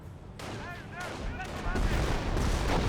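Booming artillery barrage in Company of Heroes, with repeated shell whistles and heavy blasts building into a continuous loud rumble of impacts, under a commentator's voice.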